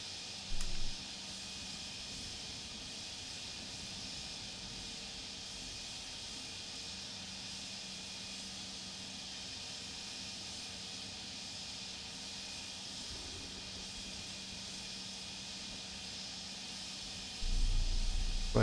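Airliner taxiing at Palma airport in the Prepar3D flight simulator: a steady high engine whine and hiss holds evenly throughout, with a brief low thump near the start and a louder low rumble rising at the end.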